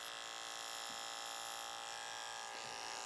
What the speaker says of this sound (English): we can also take and do a little bit of clipper over comb